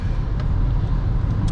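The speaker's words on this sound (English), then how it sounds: "We have a semi-truck in the left lane." Steady low road rumble of traffic in the rain, with a semi-truck in the left lane alongside, a continuous dense roar and faint hiss of wet tires with brief brighter swishes.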